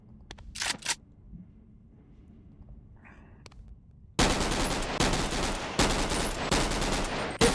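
An AKM rifle from a BONELAB mod fires in the game after a few quiet handling clicks, then erupts into loud, sustained automatic bursts that fill the rest of the moment.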